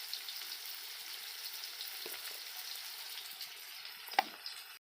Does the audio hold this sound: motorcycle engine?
no